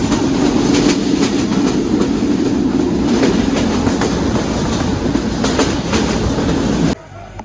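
A moving passenger train clatters steadily on its rails, loud and close, with rhythmic clickety-clack wheel beats that cut off abruptly near the end.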